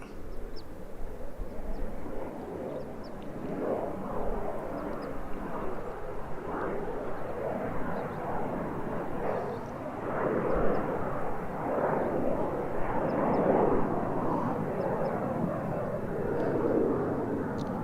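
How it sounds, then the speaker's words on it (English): An Embraer 175 airliner taking off on the far side of an airport, a distant steady engine roar that swells gently and holds over the whole stretch, with no speech. "So that's Embraer 175 just taken off on the other side of the airport."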